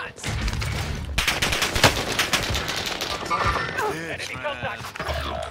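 Rapid bursts of automatic gunfire and impacts crackle through a battle royale video game fight, dense and loud, with people talking over the shooting.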